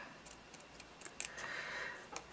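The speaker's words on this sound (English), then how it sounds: "I'm going to take some scissors" Scissors cut paper for handmade paper flowers, a few faint, close snips and crisp clicks in a quiet room, with a longer rustling cut near the middle.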